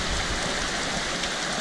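Heavy typhoon rain pours down while floodwater rushes past, a loud, dense and continuous hiss and roar with no pauses, close to the listener.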